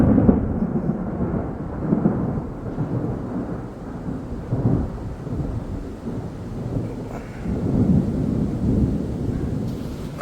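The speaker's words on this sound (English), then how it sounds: "Just heard the thunder rolling." Low, rumbling thunder rolls continuously and heavily, swelling and fading in waves with a steady wash of rain underneath, no voices.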